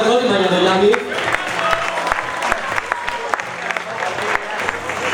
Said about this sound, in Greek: Ένα χειροκρότημα για τον Γιάννη